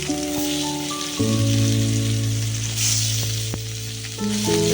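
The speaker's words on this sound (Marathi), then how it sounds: "छान फ्राय करून घ्यायच्या, दोन्ही साईडला चांगल्या भाजून घ्यायच्या" Masala-coated surmai (kingfish) pieces sizzle steadily in hot oil in a pan, a loud, dense crackle with occasional sharper pops and steady tonal hum underneath, continuing without any talking.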